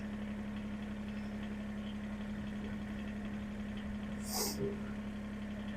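A John Deere 1023E compact tractor idles in four-wheel drive low range, giving a steady low engine hum with a constant tone all the way through, fairly quiet, with one brief hiss near the end.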